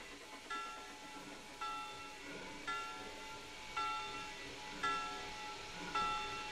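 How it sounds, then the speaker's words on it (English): A train arrives at a station, sounding as a low rumble with a rhythmic clunk roughly every second and a faint tonal ring above, steady and fairly quiet. "Train number 666, Traxius the Destroyer, is now arriving at Unionville Central on track 1."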